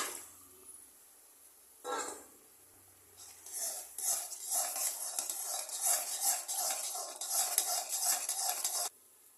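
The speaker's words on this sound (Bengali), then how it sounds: "পুরোটা ভালো করে নেড়ে চেড়ে নিয়ে নিলাম।" Food is stirred in a pan after a splash of milk is added, with a utensil scraping and clinking in quick rhythmic strokes, close and moderately loud, after a few quieter knocks at the start.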